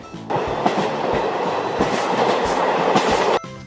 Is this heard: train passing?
yes